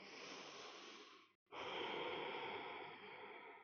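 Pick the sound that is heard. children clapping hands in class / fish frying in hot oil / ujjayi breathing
ujjayi breathing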